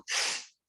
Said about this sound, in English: Are you going to sneeze?